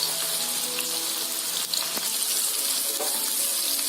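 Onions frying in a pan for mushroom pallipalayam give off a steady, close, broadband sizzle with faint crackles throughout, and no one speaks.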